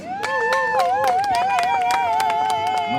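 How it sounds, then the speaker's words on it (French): Applause and cheering from guests at a civil wedding ceremony, scattered claps over a wavering ululating voice and crowd hubbub, close and lively. "Ok, acclamons."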